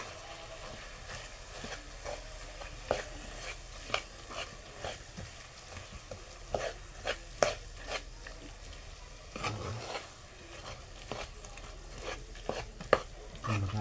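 Cooked onion and vegetables are mashed in a pan for pav bhaji, giving a steady run of soft squelching and scraping strokes with irregular sharper knocks of the masher against the pan.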